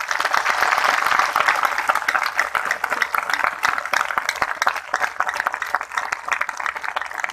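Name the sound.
crowd applause at the Latiya festival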